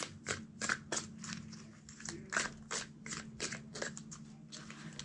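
A tarot card deck is shuffled by hand in a quiet room, with a run of quick papery riffles and flicks in short uneven bursts, close and fairly soft, with no talk.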